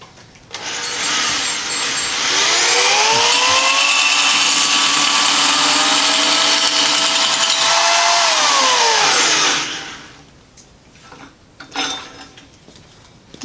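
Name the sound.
tube notcher notching a carbon fiber tube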